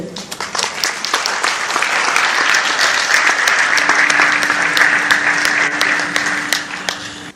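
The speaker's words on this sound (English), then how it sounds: "I want you to give them a warm round of applause" A large audience at a Responsible Business Forum in Singapore applauds steadily for Kevin and Nesha as they come on stage, dense clapping holding at full strength for several seconds, with a faint steady tone rising underneath partway through.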